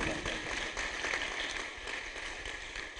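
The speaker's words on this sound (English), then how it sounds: "A round of applause." An audience applauds a guest pastor, Pastor Labi, at a 2018 literary event, producing a steady, dense wash of clapping that carries through the whole stretch without pause.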